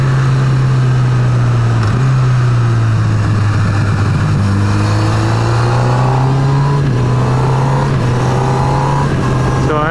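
A Honda CB1000R motorcycle engine droning loud and close, its pitch dipping and climbing as it shifts gears, with a steady humming tone and wind rush behind it.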